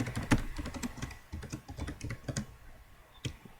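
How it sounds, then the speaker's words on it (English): Typing on a computer keyboard, a run of close, light key clicks in an irregular rhythm with brief pauses, heard alone. "So I'm going to type in The Hardy Boys:"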